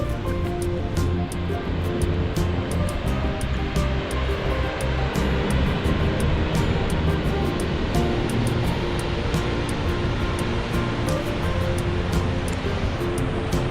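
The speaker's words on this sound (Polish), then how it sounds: "No i to jest wodospad kawał wodospadu." Dettifoss waterfall in Iceland gives a continuous, dense roar of heavy falling water, steady and fairly loud, with faint scattered clicks on top.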